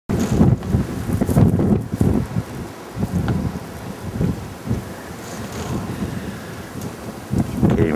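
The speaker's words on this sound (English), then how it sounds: "it's still windy, about 45 mile an hour gusts here" Strong blizzard wind gusting at about 45 mph in Champaign, loud low roaring bursts that surge and fade repeatedly, buffeting the microphone close up.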